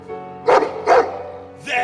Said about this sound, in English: the grounds are patrolled by vicious dogs